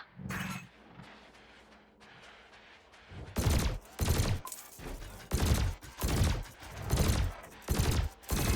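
Ship weapons fire at floating canisters in Elite Dangerous basic training, one faint shot early on, then a steady run of loud, punchy blasts about every half second, each booming low and bright.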